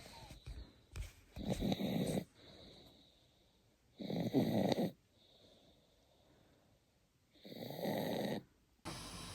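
A pet snores at home in slow, regular rounds: three long, loud rasping snores, each separated by a few seconds of quiet breathing, heard close and alone without talk.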